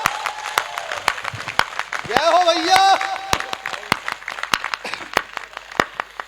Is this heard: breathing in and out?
no